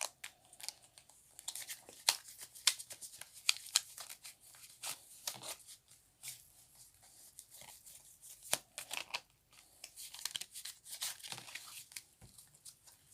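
Tarot cards being shuffled and handled for a card reading, giving a quiet, irregular run of papery riffles, slides and crisp snaps throughout, with no talking.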